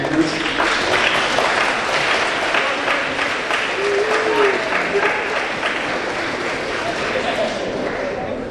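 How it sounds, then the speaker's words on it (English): Sustained audience applause fills an awards ceremony hall, steady and dense throughout with crowd murmur and a few voices underneath. "just give them a round of applause and thank your families."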